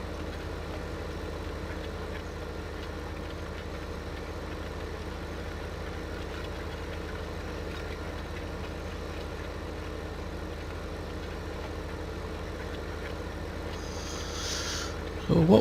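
A John Deere tractor engine idling steadily in Farming Simulator 2015, a constant low mechanical drone held at an even level throughout, with a brief louder burst at the very end.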